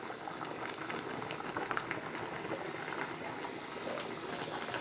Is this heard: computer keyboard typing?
no